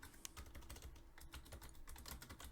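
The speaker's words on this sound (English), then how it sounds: "Oh no, they're gonna hear what I'm typing." Rapid, irregular clicking of keys on a computer keyboard, fairly close but quiet, with no voices over the typing.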